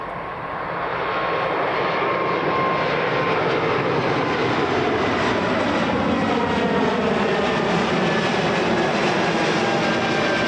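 Air France Airbus A220 at Edinburgh Airport, a steady loud jet engine roar with a faint whine, rising slightly at the start and holding throughout.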